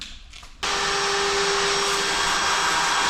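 A vacuum cleaner switches on abruptly in a metal fabrication shop after a quieter moment, then holds a loud, steady whining roar with a sharp tonal drone, close and alone without voices.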